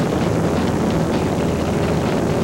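Propeller biplane droning steadily overhead on a half-hour sightseeing flight above the White Mountains, a continuous loud engine hum with no pauses and no voices.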